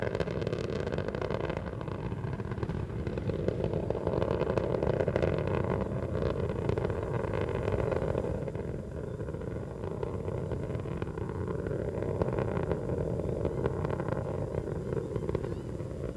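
The Space Shuttle Atlantis main engines thunder during launch, a loud, continuous low roar with slow swells and dips in intensity as the engines throttle, no voices over it.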